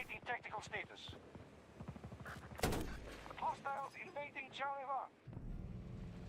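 A tank's gun fires with a single loud, sharp boom, followed by a lower rumbling tail, among excited voices talking before and after the shot.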